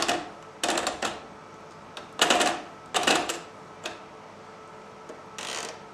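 A Janome J3-24 sewing machine stitches a buttonhole in short mechanical bursts of clattering needle action, about half a dozen quick runs separated by brief pauses, close and moderately loud.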